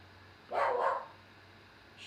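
An excited dog lets out a single quick double bark at moderate distance, the two yelps bunched together and then fading into quiet background hiss.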